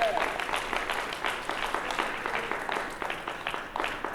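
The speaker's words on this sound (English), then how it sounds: "Let's give her another round of applause." An audience at a board of education workshop claps steadily, the individual hand claps audible as a dense, moderately loud patter running through the whole stretch.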